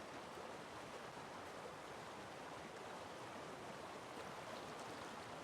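Steady, broadband rushing water at a river mouth in the fishing game Call of the Wild, a dense constant roar like a stream or surf that stays level throughout with no talk.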